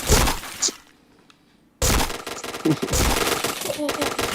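Loud bursts of automatic gunfire from a shooter video game, with rapid shots, a short silent gap, then more firing and impact clatter, while a voice talks over part of it.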